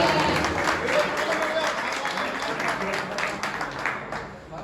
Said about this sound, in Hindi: जोरदार तालियां भाई।